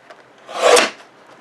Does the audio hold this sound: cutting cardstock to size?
yes